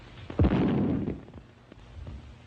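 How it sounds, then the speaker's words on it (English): An artillery shell explodes in a 1931 comedy film, a single dull boom that starts with a sharp crack, rumbles briefly and fades, recorded with soft, muffled old-soundtrack quality and no talk over it. "But what were those explosions? Shells, my dear."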